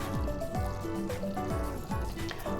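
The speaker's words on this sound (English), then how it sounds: "Now get it to this full boil like this and boil it for a full 2 minutes" Biscoff cookie butter fudge mixture at a full boil in a pot, thick bubbles popping and squishing in a steady repeating rhythm, close and moderately loud.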